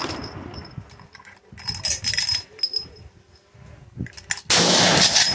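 Gunshots at Tannerite and pumpkin targets outdoors: scattered sharp cracks with some echo, then a sudden loud, sustained roar near the end that fits a Tannerite blast.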